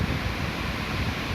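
Ocean surf at Kuta beach in Bali roars as a steady, broadband wash of breaking waves, loud and continuous with no pauses and no voices.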